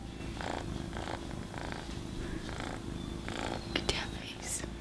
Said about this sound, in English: You guys hear her purring.